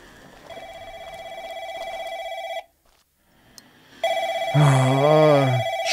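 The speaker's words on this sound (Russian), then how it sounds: "И слышу телефон!" A telephone rings in a horror video game, a steady electronic ring that pauses briefly and then resumes loud and close. Eerie tones join it near the end.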